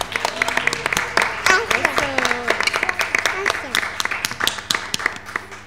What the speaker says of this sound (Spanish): Quiero pedir un fuerte aplauso de todos nuestros escuchas para los chicos que hicieron un programa acá